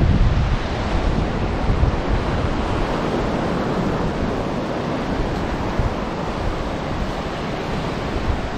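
Ocean surf roars steadily at Co Thach beach in Phan Thiet, a rocky shore with worn stones, heavily mixed with loud wind buffeting the microphone and no clear breaks between waves.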